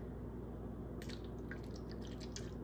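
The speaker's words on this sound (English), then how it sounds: "Gonna pour the low fat milk in there." Low fat milk is poured into cake mix in a bowl, giving soft drips and splashes over a steady background hiss after a quiet opening.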